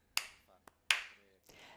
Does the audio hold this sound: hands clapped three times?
yes